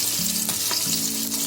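Shetka fish fries in a pan with a loud, close, continuous sizzle and crackle, and a short stirring scrape cuts in partway through; no talking.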